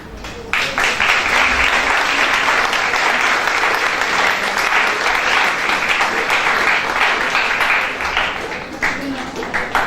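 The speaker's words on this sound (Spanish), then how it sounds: "Le damos un fuerte aplauso" Sustained audience applause following a lecture by maestro Vidal at an intercultural bilingual education event in Peru, a dense steady wash of many hands clapping for about ten seconds, with some voices faintly mixed in.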